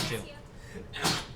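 A brief, sharp sneeze bursts out near the end, close by, following a moment of quiet room sound.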